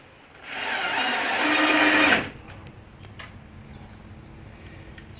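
A power driver runs a screw into timber while a raised garden bed is being built, making one continuous whirring burst of about two seconds that rises slightly in pitch before it stops. Faint clicks and knocks follow in a quiet room.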